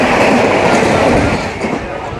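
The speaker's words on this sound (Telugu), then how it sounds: "ట్రైన్ అయితే వెళ్ళిపోతుంది స్పీడ్గా." On board the Sapthagiri Express on the Chennai to Tirupati line, a loud, continuous rolling rumble of the train at speed with faint clickety-clack from the wheels.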